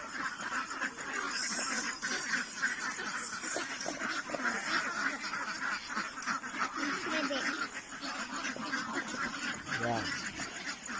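A large flock of Pateros ducks (itik) quacking before dawn at about 3 a.m., a dense, continuous chorus of overlapping quacks close by, with someone talking over it.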